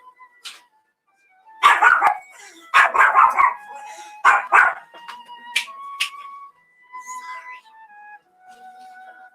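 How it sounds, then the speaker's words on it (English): A dog barks in several loud, close bursts, sometimes three or four quick barks at a time, then gives softer yips and whines, with gaps of silence between. "Hush, killer dog."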